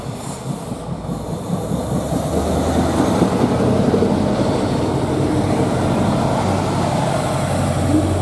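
A model Fiat Minuetto diesel railcar rumbles steadily along the track, its engine drone and wheel noise building after a quieter start and holding close and loud.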